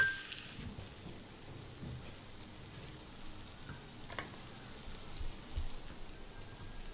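Garlic and shallots cooking in a hot pan give a steady, soft sizzle and crackle throughout, moderately close, with a couple of slightly brighter pops along the way.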